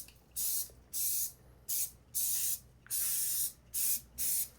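PT Alpine fly insecticide sprayed around garbage cans outdoors, a series of seven close, sharp hissing bursts of varying length separated by brief pauses.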